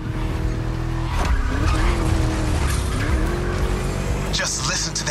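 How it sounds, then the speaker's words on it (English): A loud, revving V8 engine of a muscle car in The Crew Motorfest roars steadily with tire squeals and skidding, while a voice talks over it. "Just listen to that V8"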